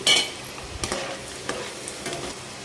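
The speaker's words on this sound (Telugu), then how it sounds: "ఆయిల్ హీట్ ఎక్కిన తర్వాత వెల్లుల్లి రబ్బులు అయితే వేసుకోవాలి" Garlic cloves fry in hot oil for a curry leaf pickle, giving a steady close sizzle with a few sharp scrapes of a spoon stirring the pan and no talking.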